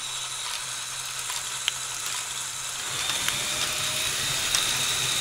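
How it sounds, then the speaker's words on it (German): A Mould King 26008 great ball contraption harp runs, giving a steady mechanical whir with light ratcheting clicks and occasional ticks as balls are shot upward. "Und es läuft schon alles. Da werden schon die Bälle hochgeschossen."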